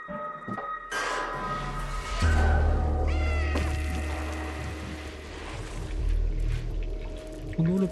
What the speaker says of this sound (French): Oh non, le petit chat.